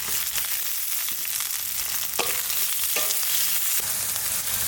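Onions sizzle in mustard oil in a wok, a steady close frying hiss broken by occasional scraping stirs and crackles, with no one talking.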